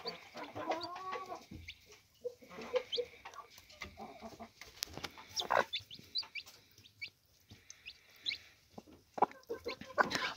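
A broody Gurk hen on a hollowed straw nest clucks among her chicks. The clucks come close and irregular, with high chick peeps scattered throughout and no talking.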